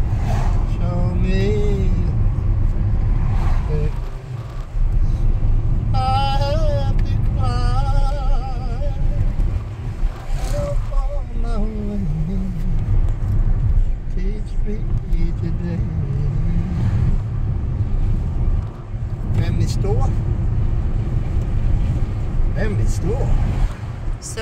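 A car drives along a road in New Zealand's Northland, with a steady low engine and road rumble running throughout while people talk over it.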